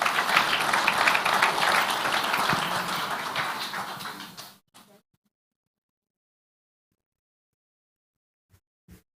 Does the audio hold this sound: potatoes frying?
no